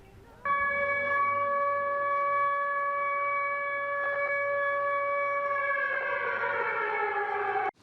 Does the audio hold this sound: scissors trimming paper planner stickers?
no